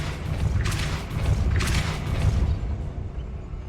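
Depulso repelling spell cast in the video game Hogwarts Legacy, a pair of bright whooshing bursts over a low rumbling game backdrop, each about a second long, then the effect fades out.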